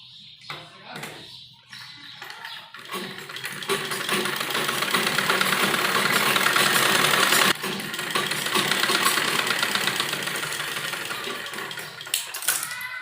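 A sewing machine stitches along the edge of an embroidered lined kurti suit, a steady close mechanical whirring that builds and runs continuously for most of the span, with some handling noise around it.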